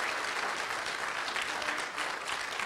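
A church congregation applauds, a dense, steady wash of clapping from many hands that holds through the whole moment with faint voices mixed in.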